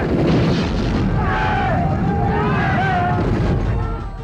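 Battle-scene gunfire and blasts from a Marathi war film rumble as a dense, continuous roar of shots and explosions, loud throughout, with a voice faintly mixed in.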